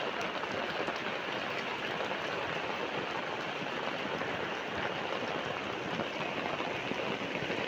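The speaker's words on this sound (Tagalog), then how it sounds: "Naabutan po ako ng malakas na ulan." Heavy rain pours down at night in an unlit outdoor spot, a dense, steady hiss of drops hitting surfaces that continues without a break.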